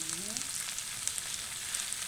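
Chicken frying in a pan gives a steady, close sizzle and crackle with scattered pops, continuous throughout.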